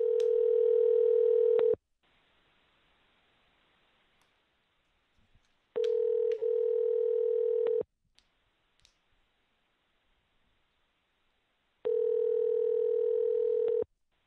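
Telephone ringback tone heard while dialing a call, three long steady bursts of about two seconds separated by roughly four seconds of near silence with faint clicks, no one speaking.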